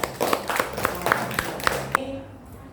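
A classroom audience of teacher trainees claps together in a scattered burst, fairly close, with a few sharper slaps standing out before it breaks off abruptly into a quieter room.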